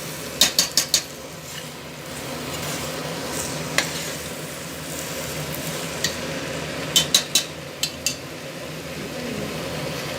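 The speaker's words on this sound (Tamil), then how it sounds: "எண்ணெய் பிரிஞ்சு வர வரைக்கும் நல்லா வதக்கணுங்க" Masala sautéing in oil for Pondicherry-style mutton biryani gives a steady close sizzle, broken by bursts of sharp metal spoon clinks against the pan near the start and again later, with no talking.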